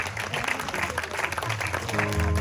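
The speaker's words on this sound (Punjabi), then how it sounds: "ਇਹਨਾਂ ਲਈ ਵੀ ਤਾੜੀਆਂ ਬਣਦੀਆਂ ਆ" An audience at a devotional jagran claps for the musicians, a brief burst of dense applause over a low musical drone that rises toward the end.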